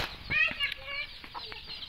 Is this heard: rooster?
yes